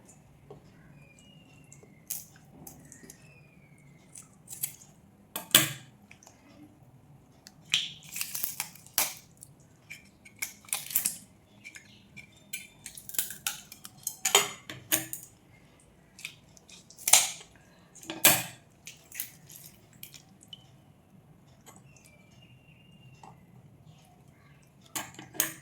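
A small tuna is cut up with a knife, sharp scattered crunching and chopping strikes with pauses between, close and isolated against a quiet background.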